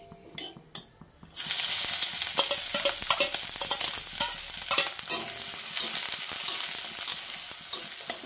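Chopped chilli, onion and finely minced garlic hit a hot pan with a sudden loud burst of sizzling after a few light clinks, then crackle and hiss steadily with scattered sharp pops as they fry.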